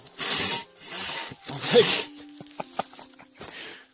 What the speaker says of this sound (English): I'm already 3/4 through the log and I've only taken like 10 swipes.